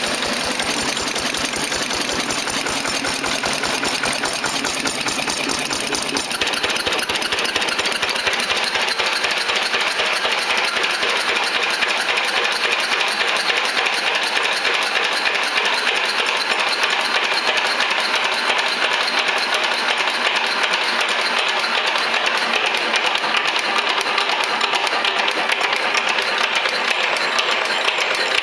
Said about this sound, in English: That's the sound of an oil seal.